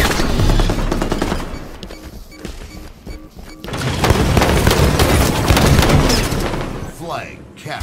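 Gunfire and grenade blasts in a Halo 5 multiplayer match ring out loud and near in dense bursts, with heavy booms and rapid automatic fire continuing throughout.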